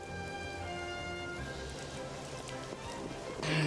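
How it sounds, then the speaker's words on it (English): Rain falls in the video game Xenoblade Chronicles 2 as a soft, quiet patter behind sustained game music, growing slightly louder at the very end. "now it's raining."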